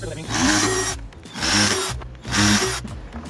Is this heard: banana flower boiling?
no